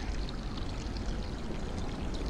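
Steady rushing stream of water pouring from a tap in the puzzle adventure game Machinarium, continuous and fairly loud, with no voices over it.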